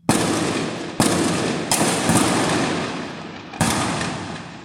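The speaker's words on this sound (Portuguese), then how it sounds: "O som dos tiros acordou os moradores." Several loud, sharp gunshots ring out a second or so apart at night during a shootout between bank robbers and police, each echoing and rolling away into a long fading reverberation.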